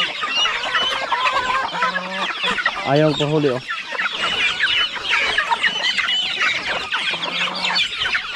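Chickens and roosters, including young Jersey Giant birds, cluck and squawk loudly at close range on a farm, with a few drawn-out calls rising over the flock while people talk briefly.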